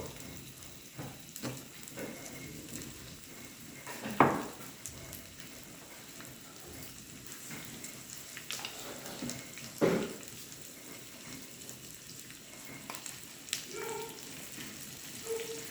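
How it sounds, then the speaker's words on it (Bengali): Greens and potato frying in a pan for a fenugreek greens and potato dish, a steady soft sizzle with a few sharper spatters and stirring clatters, no talk. "এবার এটা ভাজা ভাজা হবে, তারপরে আমি মেথির শাকের মধ্যে মিশিয়ে দেবো"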